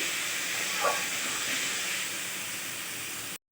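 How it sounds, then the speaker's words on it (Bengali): Liver being stir-fried in a pan for a Bengali dal curry gives a constant, even hiss close by, with one faint clink early on before it cuts off abruptly. "এবার ভালোভাবে নেড়ে চেড়ে আমি কষিয়ে নেব"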